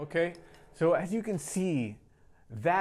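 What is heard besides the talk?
No distinct noise like a dog, phone or traffic.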